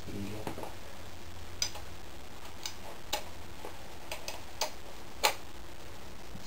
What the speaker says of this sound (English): So I'm just going to use the extension bar, it's easier.